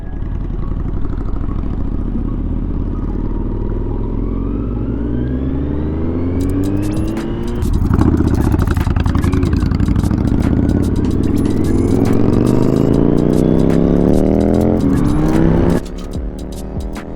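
A 2023 Kawasaki Z900 motorcycle pulls hard from 40 in third gear, its engine note climbing steadily and loudly with strong wind rush, briefly easing before revving up again.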